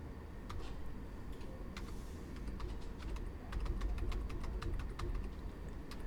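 Fingers typing on a computer keyboard, a steady run of close, crisp key clicks over a low background hum.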